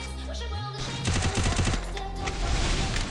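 Rapid gunfire in a shooting video game, with dense bursts of close automatic shots over steady electronic tones, growing louder in the second half.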